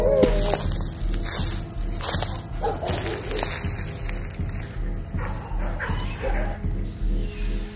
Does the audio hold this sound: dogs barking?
yes